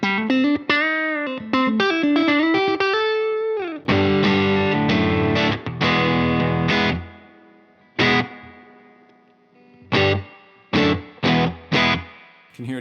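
Electric guitar through a Fender Deluxe Reverb amp via aux input: a fast single-note run, then loud strummed overdriven chords and short stabs with pauses and reverb tails, no voices.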